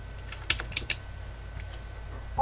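Keystrokes on a computer keyboard while entering a chat command in Minecraft, a few quick clustered taps standing out above steady low background hum, fairly close and moderately loud.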